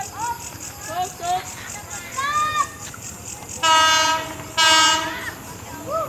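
A KRL Tokyu 8518 commuter train passes close by, its horn sounding in two long loud blasts over the rumble of the cars, with faint voices nearby.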